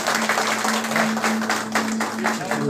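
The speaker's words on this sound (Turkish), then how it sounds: "Bir alkış da hocama diyorum." Audience applause at a Turkish journalists' awards night after a poetry recitation, brisk clapping from a crowd mixed with a sustained musical drone and some voices underneath.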